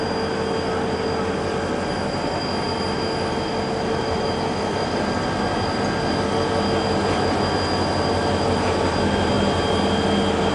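Train with a locomotive rolling steadily past, a continuous rumble of wagons and wheels with faint high squealing, sustained at an even loudness for about ten seconds.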